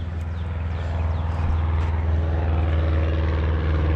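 A propeller airplane near the end of a runway, its engine a steady low droning hum that grows slightly louder over the few seconds, heard from nearby outdoors.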